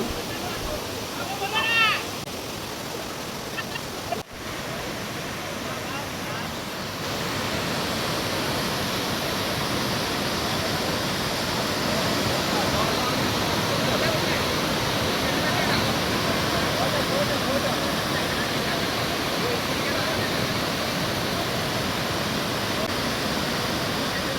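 Water flows steadily along an irrigation canal feeding crop fields in the Maredumilli hills, a continuous broadband rush that grows slightly louder partway through, with a brief faint chirp early on.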